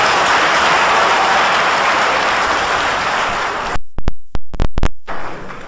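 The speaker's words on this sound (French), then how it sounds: "Applaudissez la sœur, s'il vous plaît" Sustained dense applause from an audience at a public talk fills the room, then breaks off into a few scattered, sharp late claps before fading.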